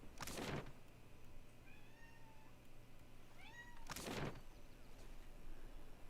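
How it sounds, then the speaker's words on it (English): A cat meows twice with a few seconds' gap in the game Pillars of Eternity II, fairly close, against a quiet background with a faint higher mewing sound in between. "What are you meowing about?"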